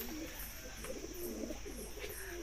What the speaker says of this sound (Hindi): उधर कबूतर है।